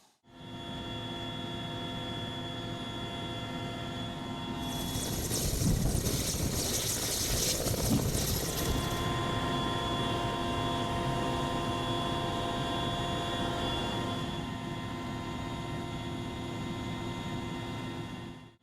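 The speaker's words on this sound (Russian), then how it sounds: "Вертолет Ми-8 плавно оторвался от земли, набирая высоту и устремился к заданной точке" A Mi-8 helicopter lifts off and climbs away, its steady turbine whine and rotor drone holding throughout, with a louder rushing surge partway through; no voices.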